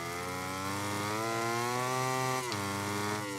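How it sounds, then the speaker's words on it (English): Yamaha MotoGP motorcycle engine in the MotoGP 17 video game, revving loud and steady with a rising pitch, a quick dip at a gear change, then climbing again, with no talk. "He's revving up that engine though."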